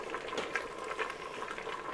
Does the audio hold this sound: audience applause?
no